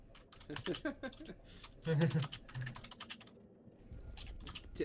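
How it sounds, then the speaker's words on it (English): Keys clatter as a message is typed on a keyboard in the video game Detroit: Become Human, a quick run of close, light taps interrupted by a short bit of in-game speech. "Tippity typing a new a message there."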